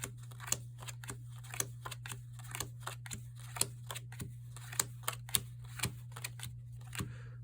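Playing cards dealt one at a time into alternating face-up and face-down piles, a steady run of crisp, light snaps and flicks close by over a faint low hum.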